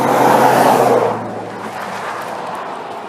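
Highway traffic near Brookings, Oregon: a loud vehicle sweeps past close by in the first second, then fades into a steady, quieter road rumble with no talk.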